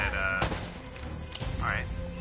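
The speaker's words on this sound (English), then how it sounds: "They're shooting at you too, you know." Gunfire in the Uncharted video game, several sharp shots and bursts over busy game sounds, with a voice talking at moments.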